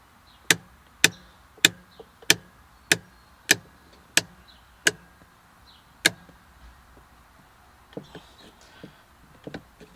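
Handbrake lever on a Mazda Miata pulled up through its ratchet: about nine sharp, close clicks at a steady, slightly slowing pace, followed by fainter scattered rattles and knocks inside the car.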